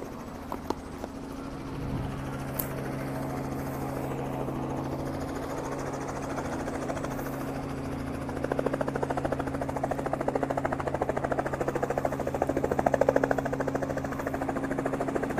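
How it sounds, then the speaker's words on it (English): A low, steady engine drone with a strong tonal hum builds into a rapid, pulsing beat of rotor blades as the aircraft spools up. "I'm going to let you just watch the helicopter take off here"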